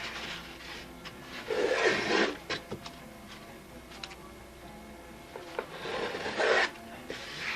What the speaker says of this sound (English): You just take little tiny shavings off.